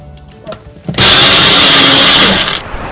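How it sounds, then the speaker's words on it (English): A kitchen blender grinds a cooled chutney mixture, kicking in abruptly with a loud, steady whirring roar that runs for about a second and a half before cutting off, preceded by a few faint handling knocks. "I'm going to transfer this mixture into the blender. I'm going to grind this well."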